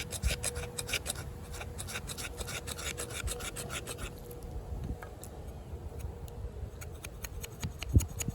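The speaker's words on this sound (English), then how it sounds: "you can definitely get some better scraping" The jimping on the spine of a Fox FKMD Combat Jungle knife in N690Co steel scrapes fat wood in quick rhythmic rasping strokes, close and steady, easing off partway through with a sharp tap near the end.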